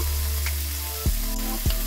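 Steak searing in a hot pan with Kerrygold garlic butter added, a steady loud close sizzle interrupted by a couple of sharp thuds from the pan.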